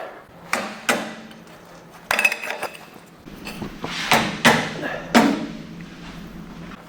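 A hammer taps parts into place on a 2332cc EMPI VW engine build, giving several sharp, close metallic knocks spaced irregularly, with a short cluster of quicker taps partway through.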